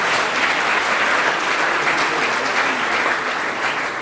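Steady, dense audience applause at an architecture awards ceremony, a full hall clapping loudly and evenly throughout without pause.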